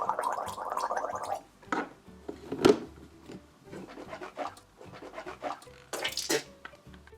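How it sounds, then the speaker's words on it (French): A child rinses and gargles water in the mouth during pretend dentist play, a wet bubbling burst up front followed by scattered swishes, clinks and small splashes nearby. "je demande en général aux patients de se rincer la bouche."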